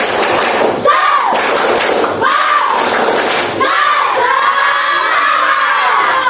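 A classroom of students does a tepuk semangat clapping chant as an icebreaker, with loud group shouting and rhythmic claps and thumps filling the room.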